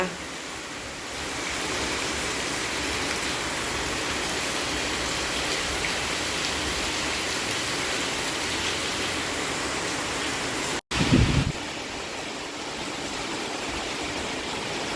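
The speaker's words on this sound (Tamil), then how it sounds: "உண்மைக்குமே நல்ல ஒரு மழை தான் வந்து பெஞ்சு கொண்டு இருக்கு" Steady heavy rain pours down continuously in Jaffna, a dense hiss throughout, with a brief thump near the end.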